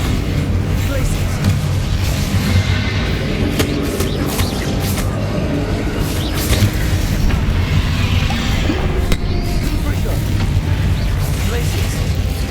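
Spell blasts from Bombarda and Confringo in Hogwarts Legacy, dense game combat with repeated booms and bursts over a loud, continuous rumbling mix.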